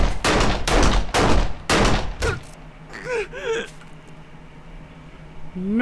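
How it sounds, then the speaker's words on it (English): Gunfire from the 7 Days to Die video game: a loud, close burst of about five rapid, evenly spaced shots, followed by a quieter stretch with a short voiced wail-like cry. "No idea what you were shooting at"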